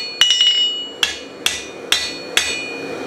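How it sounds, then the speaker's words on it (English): Hot metal is struck with a hammer on the corner of an anvil during blacksmith forging, five sharp, ringing blows spaced about half a second apart, close and loud, each tailing off in a bright metallic ring. "I take it to a corner on the anvil, start hitting the corners"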